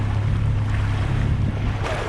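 Jet skis ride through the water near Miami Beach, passing under a road, with a steady loud engine drone, rushing water and wind buffeting the microphone throughout, no voices.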